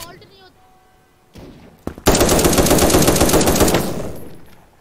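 A PUBG match erupts into a long, loud burst of rapid automatic gunfire after a brief stretch of quiet talking, the shots rattling continuously before tapering off.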